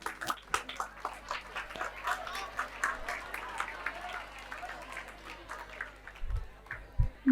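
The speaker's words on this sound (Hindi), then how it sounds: "तालियां रुकनी नहीं चाहिए। तालियों का शोर ऐसा होना चाहिए कि पूरे कोटा को पता चल जाए" An audience at a school Independence Day celebration in Kota applauds in a steady, moderately distant patter of many hands, with occasional louder claps, lasting several seconds as the clapping thins toward the end.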